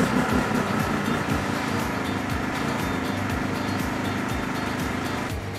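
A Champion 2200W inverter generator runs at a steady idle, its engine drone close and constant for the whole stretch with no voices over it.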